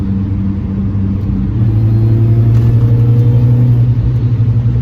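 An R53 Mini Cooper S engine with an upgraded, reduced-weight crankshaft pulley hums and rises steadily, with a sustained mid-pitched supercharger-style whine over low rumble, loud and close, no voices.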